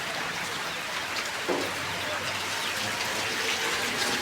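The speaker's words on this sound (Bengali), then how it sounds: "দেখো বাইরে বৃষ্টি হচ্ছে" Rain falls steadily outside a roadside shop, a constant close hiss of drops hitting surfaces with a faint voice now and then underneath.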